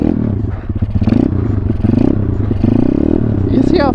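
A blown-out pit bike with a damaged engine idles and putters along in first gear close by, its rough, uneven knocking and clattering running throughout, with a brief higher squeal near the end.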